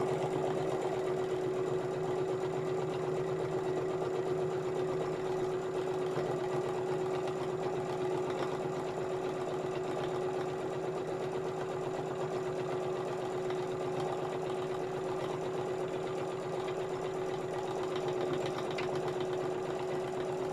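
A sewing machine stitches a laptop pouch in a steady, even run with a constant hum all the way through.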